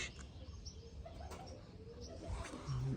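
Soft pigeon coos with a few chirps over a low, noisy background, the birds sounding fairly close.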